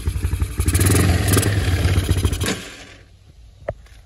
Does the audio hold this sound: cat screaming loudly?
no